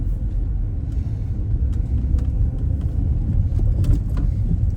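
A learner driver's car pulls away on a mock driving test in Finglas, a low, steady engine rumble with slight surges and a few faint clicks, with no talking.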